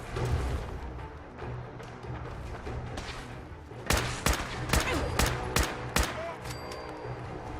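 Gunfire in the video game Fallout 4: a run of sharp, loud shots in quick succession, mostly bunched in the back half, over a busy game soundscape with no talk.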